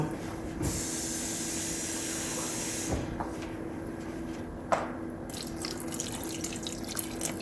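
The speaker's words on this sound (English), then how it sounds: "I'm add just a little water to this, just to help it out." A little water poured into a pot of corn on the stove, a soft steady splashing stream with a few faint clinks, quiet and close, no talking.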